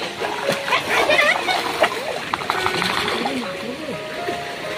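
Splashing and sloshing in a village pond as someone plays in the water, with irregular close splashes mixed under lively voices and other people talking.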